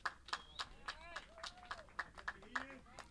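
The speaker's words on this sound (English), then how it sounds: "let's have a round of applause for Ian Hollerbach" Scattered clapping at a yacht club sailing regatta, several separate hand claps over a few seconds, light and uneven, mixed with overlapping voices talking in the background.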